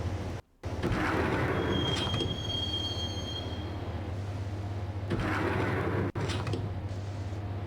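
Subway train riding in the video game Max Payne, a steady low rumble of the moving carriage with wheel squeals and a brief high metallic whine, punctuated by short thumps.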